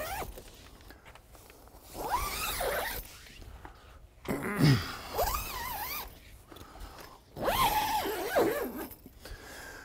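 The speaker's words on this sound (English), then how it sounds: "Then we'll just zip it up." Zippers pulled along the fabric doors of a two-room observatory tent, several long ripping zips in separate bursts with quiet handling between them, close up.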